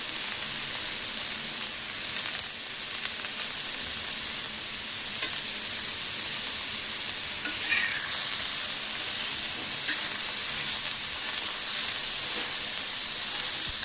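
Chopped onions fry in a spoonful of oil with a steady, dense sizzle and hiss close up, broken now and then by faint scraping of a stirring spoon.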